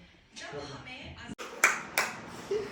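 Two or three sharp hand claps ring out close by, following a stretch of talking voices in a lively home setting.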